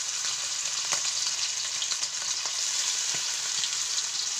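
Chicken pakora dry-fries in a pan with a steady, loud sizzle and crackle, with occasional faint stirring taps throughout.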